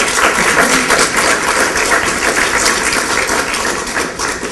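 Dense, loud audience applause in a lecture hall during a question session, a continuous wash of many hands clapping that holds steady and eases slightly toward the end, with no talking over it.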